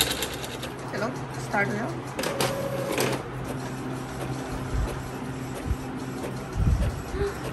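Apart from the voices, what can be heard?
printer making a color print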